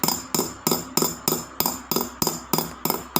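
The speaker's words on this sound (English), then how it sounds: "We can hammer" Small metal hammer strikes on a ring clamp, pushing metal over the stones of a ring: about ten crisp, evenly spaced taps in a steady rhythm, close and loud with short ringing decays.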